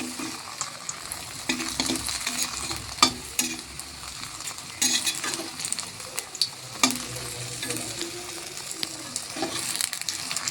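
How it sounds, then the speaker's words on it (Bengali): Aloo paratha frying in hot oil in a pan, with a continuous close sizzle and crackle and occasional scraping and tapping knocks as it is moved around. "তো এটাকে এখন তেলের মধ্যে এরকমভাবে ভাজছি যে দেখো"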